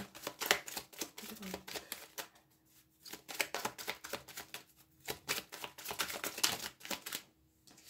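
Oracle cards are shuffled by hand in quick riffling, flapping bursts, close and crisp, with short pauses between rounds as cards are drawn and laid down.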